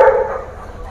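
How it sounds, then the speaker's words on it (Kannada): A Labrador at a dog kennel in Bengaluru gives a single loud, close bark that quickly fades into quiet. "ಒಳ್ಳೆ ಫ್ಯಾಮಿಲಿ ಡಾಗ್ ಸರ್ ಲ್ಯಾಬ್ರಡಾರ್"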